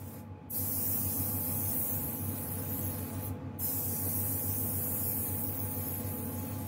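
An Iwata TH airbrush powered by a new air compressor sprays paint with a steady, close hiss that runs almost without a break, and a low compressor hum sits underneath it.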